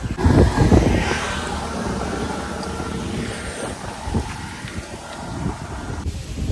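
Wind gusts outdoors buffet the microphone in a loud, uneven rush, strongest at the start and surging again later, with no talking.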